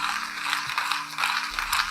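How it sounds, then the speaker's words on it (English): A coffee grinder grinds beans in a steady, close, rattling whir that runs the whole time, with a faint low hum beneath it. "just grinding some coffee"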